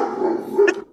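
A Great Dane gives a single deep, loud bark close by, a short booming woof lasting under a second with no talking around it.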